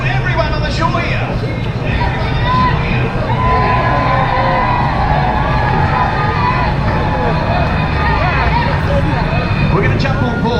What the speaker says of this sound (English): Now, everyone on board the May Gibbs, give a big cheer to everyone on the shore here.